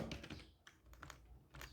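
Quiet, rapid keystrokes on a computer keyboard as a sentence is typed, a soft clicking patter with a few louder taps.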